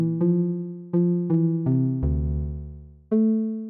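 Serum 2 software synth pluck run through soft clip distortion, playing a short melodic phrase of six or seven bright harmonic notes, with a sustained lower note in the middle, clean and close with no voices.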